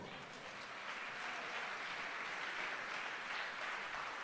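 Congregation applauding in a church service, continuous even clapping from many people throughout, moderately loud and unbroken.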